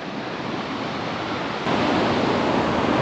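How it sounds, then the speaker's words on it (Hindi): Waterfall pouring down from above near Attabad Lake, a continuous broad rushing roar that swells noticeably louder partway through, with no talk. "वो ऊपर से पानी गिर रहा है"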